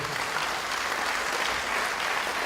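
Audience applause at a French literary award ceremony, steady, moderately quiet clapping from a hall crowd that holds evenly throughout without speech over it.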